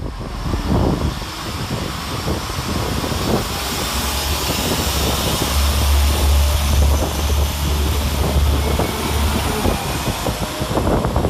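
A Class 172 diesel multiple unit rumbles steadily with a deep low drone, building as it pulls away from Kenilworth station, with broadband mechanical noise throughout.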